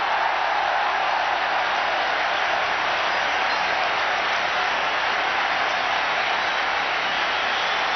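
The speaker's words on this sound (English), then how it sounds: "Listen to the crowd." Large stadium crowd at the 1996 Cricket World Cup semi-final between India and Sri Lanka in Kolkata, roaring and applauding as Sachin Tendulkar nears fifty; a dense, steady wall of cheering and clapping that holds throughout without a break.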